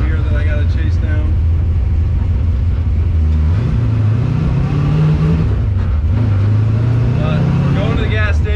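A 1967 Ford Mustang road-race build drives along with a loud, steady engine rumble that rises and falls as it revs, while something loose rattles and vibrates inside the cabin; a voice talks over it intermittently.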